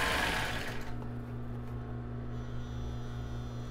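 A domestic sewing machine stitching a plus-size bra with raw Jaraguá elastic, a short burst of fast mechanical whirring at the start that settles into a steady motor hum with low mains drone, close and fairly quiet, no talking.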